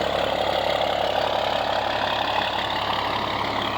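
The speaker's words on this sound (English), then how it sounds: "You can hear the exhaust is a little bit louder now that we're back here beside it" Idling engine exhaust of a 2000 Odessa Overland Lorado RV heard from close beside the vehicle, a steady, even low rumble with a constant hum and no speech.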